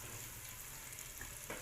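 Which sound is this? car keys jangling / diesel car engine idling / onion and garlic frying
onion and garlic frying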